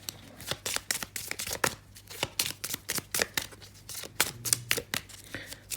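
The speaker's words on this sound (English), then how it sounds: "Just going to shuffle and see if we can get 3 or 4 of them to come out for us." Tarot cards shuffled by hand, producing a rapid series of crisp riffling bursts and soft slaps in an irregular rhythm, close and clear throughout with no talk.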